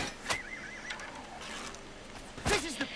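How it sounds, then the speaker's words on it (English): A horse in the video game Elder Scrolls: Oblivion Remastered whinnies twice with wavering neighs, one near the start and one toward the end, along with a few sharp hoof knocks over a quiet game background. "You shot my horse"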